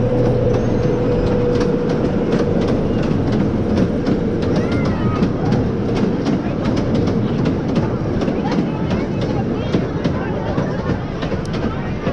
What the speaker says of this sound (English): We got a train coming overhead.